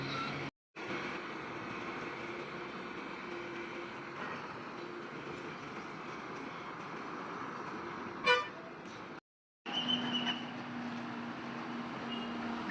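Bus stand ambience at Siddapur with KSRTC buses idling and pulling out, a steady engine drone throughout, a brief horn toot midway and cuts to silence twice.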